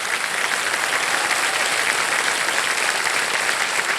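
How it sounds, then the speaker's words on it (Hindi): Dense, steady applause from a studio audience on the Hindi quiz show Kaun Banega Crorepati, welcoming a contestant; a continuous wash of many hands with no break or voices. "जोरदार तालियां बज जाएं इनके लिए"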